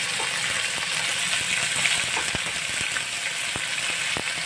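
Bean sprouts (togi) frying in a hot pan give a steady, close sizzle with scattered crackles and pops. No one speaks over it.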